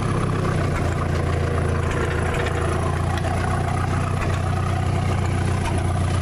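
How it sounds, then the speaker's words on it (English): An engine runs with a little throttle while the vehicle sits in fourth gear: a loud, steady, close rumble that holds an even pitch with no talking. "The gas is on. We'll give her a little throttle."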